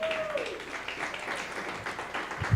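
A church congregation at a Sunday celebration service applauds, a dense, steady wash of clapping that carries through the whole moment at moderate volume, with a few stronger low knocks near the end.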